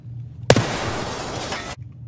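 A grenade goes off in the first-person shooter Escape from Tarkov with a sharp, loud blast, then a broad rumbling roar that hangs for about a second before it cuts off abruptly. No one speaks.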